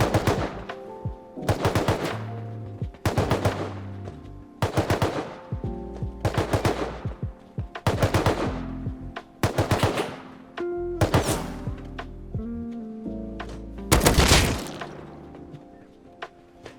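Gunfire in the video game Rust comes in about ten loud, separate bursts of rapid automatic fire, each a clattering volley with short pauses between them and no talking.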